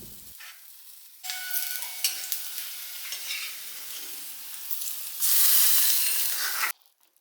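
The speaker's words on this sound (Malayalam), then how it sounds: "വെളിച്ചെണ്ണയിൽ ചെറിയ ഉള്ളി വഴറ്റിയിടണം" Small shallots sauté in coconut oil for a Kerala fish curry, a close crackling sizzle that swells into a loud, hissing burst before cutting off abruptly.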